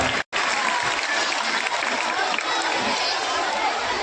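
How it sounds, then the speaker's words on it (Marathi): Loud, sustained applause from a crowd welcoming guests at an Independence Day flag hoisting held by a village panchayat and cooperative society, dense clapping broken only by a momentary cut near the start. "त्यांच्यासाठी एक वेळा जोरदार टाळ्या वाजवून त्यांचं स्वागत करावं"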